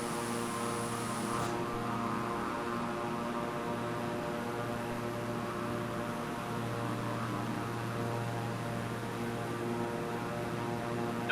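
A Beechcraft propeller airplane in a flight simulator departs with a steady, even engine and propeller drone, a faint high whine in the first second, and no change in level throughout.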